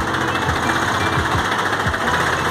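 A Ford four-wheel-drive tractor's engine idles while warming up, a loud, close, steady diesel chug with regular low knocking pulses and no talk over it.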